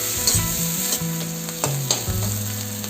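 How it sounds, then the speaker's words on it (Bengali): Chopped onion, green chilli and spring onion sizzle steadily in a hot pan for a masala Maggi, with close scraping stirs and a few sharp clinks over the continuous frying hiss. "দিয়ে ভালো করে ভেজে নেব।"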